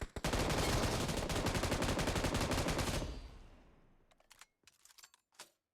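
Rapid, continuous automatic gunfire in a video game blasts for about three seconds, then fades into a few scattered clicks and taps.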